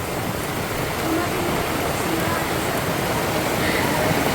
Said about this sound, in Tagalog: Ay, malakas na po ang ulan.